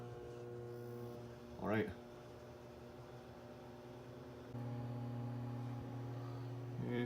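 A Breville BMO73XL microwave oven runs with a steady low hum and whirr, a faint voice briefly heard near the start, and the drone growing louder and fuller partway through.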